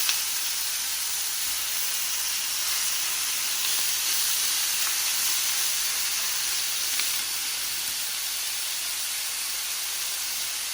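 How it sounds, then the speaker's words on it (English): Pork sears in olive oil in a pan over medium-high heat, making a continuous close hiss and sizzle that stays steady and unbroken with no talking. "I'm just going to let these sear up and then get nice and golden on each side."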